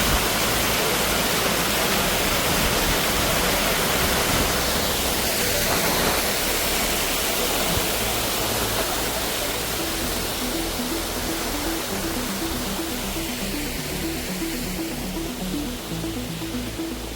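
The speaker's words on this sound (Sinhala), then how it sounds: "මේ වගේ අතුරු දියඇලි තියෙනවා." Broadband rushing water from a side waterfall at Rathna Ella in Sri Lanka, a steady dense roar that stays loud and even throughout, with a faint low repeating tonal pattern underneath toward the end.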